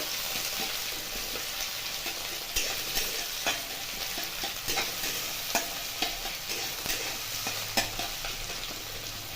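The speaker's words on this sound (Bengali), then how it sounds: "পেঁয়াজটা অল্প একটু ভাজতে দেবো।" Finely chopped onion frying in a pan for a Bengali-style potato and spinach dish: a constant close sizzle with light crackle, punctuated by repeated soft scraping knocks from stirring, no speech.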